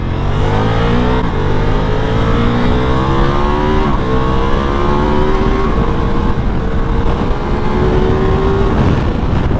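A Ducati Multistrada V4 Pikes Peak motorcycle rides past at speed, its engine roaring loud and close with rising pitch through the gears and brief dips at each shift, plus steady wind rush.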